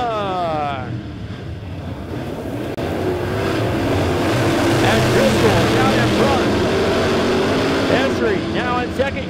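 A field of race cars roars away on the green flag in a heat race of the Tony Roper Memorial at Lebanon Midway, the engine noise swelling into a loud, continuous, overlapping drone with revving whines rising at the start and end.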